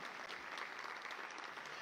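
A concert audience breaks into applause, a dense, steady wash of clapping that fills the whole moment without pause, moderately loud and with no clear voices over it.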